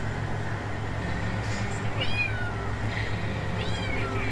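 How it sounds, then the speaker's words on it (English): A cat meows a few times, short rising and falling cries heard over a constant loud mechanical hum. "It is a constant and never-ending meow."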